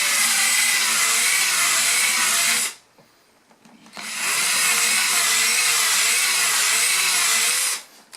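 A power drill bores holes for bolting a bass neck onto a double-neck guitar, giving two loud sustained whining bursts separated by a brief near-silent pause, up close with no talk.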